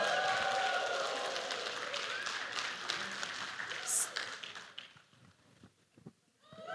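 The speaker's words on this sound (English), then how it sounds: "We're gonna cheer as loud, as rambunctiously as we can." A conference audience at MICECON 2023 cheers and applauds loudly, a dense wash of claps and whoops that fades toward the end into scattered claps and quieter crowd noise.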